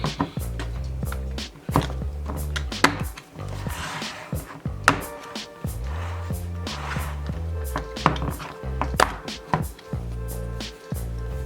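A jelly gouache paint set is unboxed, with a run of close plastic knocks, clicks and handling thuds at an irregular rhythm and no talk.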